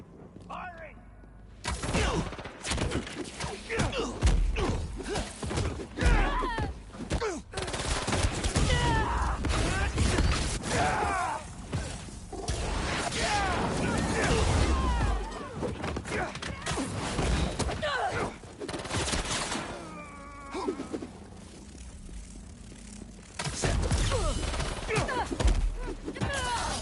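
Gunfire erupts during combat in Marvel's Spider-Man 2, loud repeated bursts and crashing impacts packed densely together with brief lulls, mixed with shouting voices and game effects.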